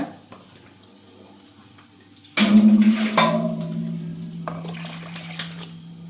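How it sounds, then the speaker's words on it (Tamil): After a quiet start, water suddenly pours and splashes into a pot of pepper rasam, a steady loud gush that gradually softens. "இதிலேயே தண்ணி ஊற்றி இதை ஊற்ற போகிறோம்"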